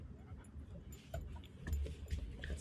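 A dog aboard a walleye fishing boat whimpers and yips in short, close whines over low rumbling boat noise.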